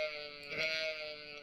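A single quiet sheep bleat from the farming game Stardew Valley, a nasal, wavering cry that swells slightly in the middle and lasts about a second and a half, alone with no talk.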